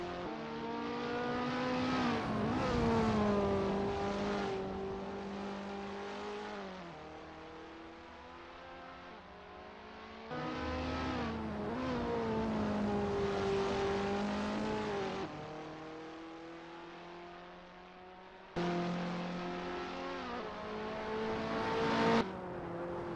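KTM X-Bow R race cars in Assetto Corsa at Monza rev and shift through gears in repeated engine sweeps, rising and dropping with each upshift, loud and close with no talk.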